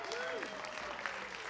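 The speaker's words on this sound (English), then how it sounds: "Give everybody a round of applause one more time," Audience applause at a StorySLAM storytelling event, a dense continuous clapping at moderate distance, with a host's voice talking over it and a brief whistle-like tone rising and falling near the start.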